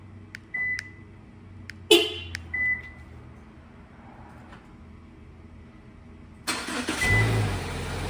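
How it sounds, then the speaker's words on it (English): A Subaru fitted with a plug-in remote start chirps through a few short lock beeps and door-lock clicks outdoors, followed by the engine cranking and catching into a steady idle; no speech. "We're going to go ahead and we're going to lock the doors 3 times."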